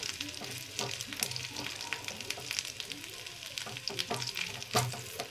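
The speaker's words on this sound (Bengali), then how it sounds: "এখানে আদাটা ভালো করে ভেজে নিচ্ছি ঘিয়ের মধ্যে।" Ginger fries in ghee while chickpeas cook nearby, giving a soft, steady sizzle with frequent spoon stirring and scraping close by and no clear talk.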